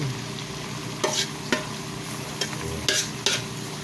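Bottle gourd sautéing with onion, tomato and garlic in a pan for a beef dish, a steady low sizzle broken by several sharp stirring scrapes at irregular intervals, fairly close, with no talking.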